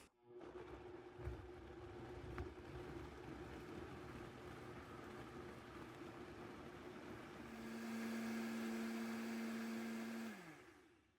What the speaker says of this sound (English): Now I'm just going to puree well